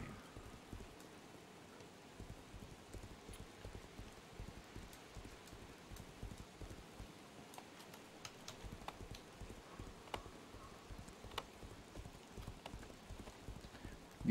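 Horse hooves clip-clop in a steady, quick rhythm in the online game Legends of Aria, close and continuous over a soft rain-like wash of background noise.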